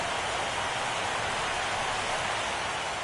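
Steady rain hiss from a baseball video game, a broad even wash of falling rain that holds at a constant level with no voices over it.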